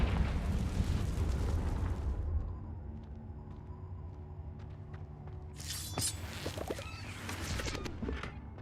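A Confringo fire-spell blast in the video game Hogwarts Legacy gives a loud, rumbling explosion that decays into quieter debris crackle and ringing tones, then a second burst of sharp pops and shattering.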